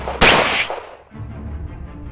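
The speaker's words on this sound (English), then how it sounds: "The non-stop gunfire is in service of the action." A single sharp gunshot-like crack from an action movie, loud and close, with a ringing decay and low rumbling tail afterward.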